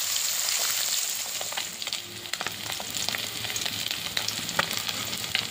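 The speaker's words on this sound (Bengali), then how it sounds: "মাছগুলো ভাজা হয়ে গেছে" Fish fries in a pan with a dense, continuous sizzle, crackling and spitting throughout, while occasional scraping clicks of a spatula punctuate the steady hiss.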